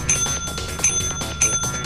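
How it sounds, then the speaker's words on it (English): Small bell in the video game Lethal Company ringing in three quick bursts about half a second apart, each a bright metallic ding over a background of game noise, with no talking. "quit ringing that bell"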